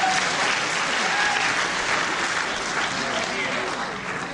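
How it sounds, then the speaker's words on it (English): A wrestling crowd at the Cliffs Pavilion in Westcliff-on-Sea applauds in a broad, steady wash of clapping from many people across the hall, with some voices mixed in and a slight easing near the end. "the very fair crowd here at the Cliffs Pavilion, Westcliff-on-Sea, really giving Hassouni applause when he does something very well."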